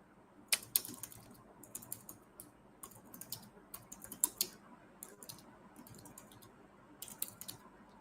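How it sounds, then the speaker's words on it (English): Close typing on a computer keyboard, quick irregular runs of light clicks with short pauses, fairly quiet over a faint background hiss. "let me just type it out then"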